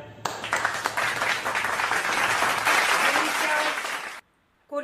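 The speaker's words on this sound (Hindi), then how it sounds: "और आप जोरदार तालियां बजाएं" Hearty applause from the audience at a poetry recital show, a dense sustained burst of clapping that starts abruptly and cuts off sharply before a voice resumes.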